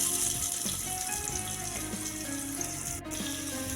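Onions fry in ghee and oil with whole spices for a vegetable biryani. A steady close broadband hiss runs throughout, broken by a few soft clinks and a short dip near the end.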